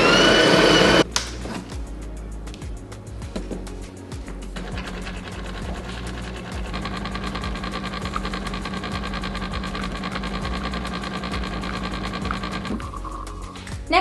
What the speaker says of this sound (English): We're gonna go ahead and grind.